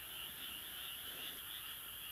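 A chorus of small frogs croaks at night beside a road in Japan, a continuous high trilling that comes from a distance and stays quiet and even.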